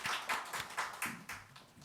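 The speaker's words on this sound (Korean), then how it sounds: "우리 박수 한번 같은 마음으로 하나님께 영광 올립니다." A church congregation claps together in praise during a Sunday service, a quick run of separate claps at a steady, lively pace, moderately close and loud, with no talking over it.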